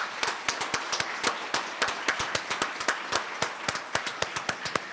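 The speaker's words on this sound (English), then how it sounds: "could we have a round of applause for all of our presentees?" An audience at a presentation ball claps for the presentees, a steady stream of sharp, close handclaps with a smaller crowd's applause blended behind.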